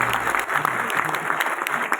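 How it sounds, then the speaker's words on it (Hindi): Loud, sustained applause from a seated audience at a Hindi-language motivational talk, dense steady clapping filling the whole stretch with no break. "एक बार जोरदार तालियां उनके माध्यम से होनी चाहिए यार"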